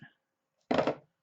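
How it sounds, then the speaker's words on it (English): A single short crisp cut through a piece of craft card, heard close and brief after a moment of quiet, with a trace of voice at the very start. "I'm going to go ahead and cut off this piece"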